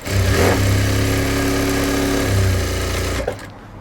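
A sewing machine runs continuously while stitching thread piping onto straight-cut fabric for a blouse, a loud steady whirring motor hum with rapid needle chatter that stops abruptly near the end.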